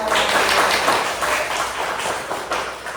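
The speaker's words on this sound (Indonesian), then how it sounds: "tepuk tangan" A class or seminar audience breaks into brief clapping after a correct answer, a dense burst of hands that is loud at first and tapers off over a few seconds, with no talking over it.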